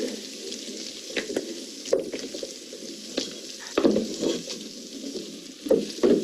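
Butter browning in a pan for spaghetti with brown butter and feta, crackling and sizzling steadily with intermittent sharper pops and spatters, close and moderately loud, no talking.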